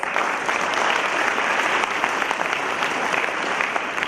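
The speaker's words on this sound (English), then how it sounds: "Big round of applause" At a wildlife awards ceremony, an audience gives a big round of applause, a broad, even roar of clapping from a large crowd that holds steady throughout, with faint cheering blended in.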